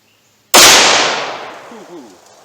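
A single sharp, loud gunshot from a Winchester PDX1 Defender 9mm load fired single action over a chronograph, with a long decaying echo tail afterward.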